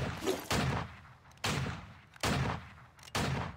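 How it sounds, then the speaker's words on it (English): Gunfire rings out in the Vainglory 5v5 video game. Four sharp, loud bursts come at roughly one-second intervals, each with a short decaying tail, and there is no talking between them. "We shoot something."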